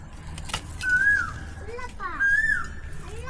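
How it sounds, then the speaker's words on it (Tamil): An Asian koel calls from a tree on a rural farm, giving two rising whistled notes about a second apart, clear and moderately close over faint background noise. "குயில் கத்திட்டு இருக்குது கேக்குதாங்க எங்க மரத்துல இருக்கு"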